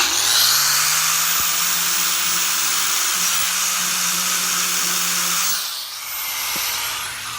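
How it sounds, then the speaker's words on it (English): Angle grinder cutting into stainless steel with sparks flying, a steady high-pitched whine held for several seconds before easing off near the end. "Stainless steel will create a spark on your grinder."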